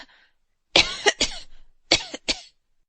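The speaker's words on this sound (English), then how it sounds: "was affected with a cough in her throat" A woman coughs in her throat several times, short dry bursts in two quick clusters, close and clear against silence.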